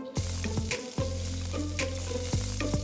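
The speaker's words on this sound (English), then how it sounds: "The first thing I'm going to put in is some chopped onions." Chopped onions fry in hot oil with a steady, close sizzle, and rhythmic clanks and scrapes of stirring in the pan run throughout.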